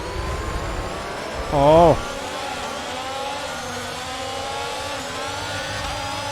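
Formula 1 race cars in the video game F1 22 accelerate off the starting grid at Bahrain, a steady, dense engine roar with rising tones. A voice briefly exclaims partway through.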